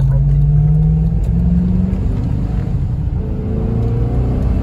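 MG ZT 260 with a 4.6 V8, heard from inside while accelerating, a loud, deep continuous engine rumble with rising tones and no break in power.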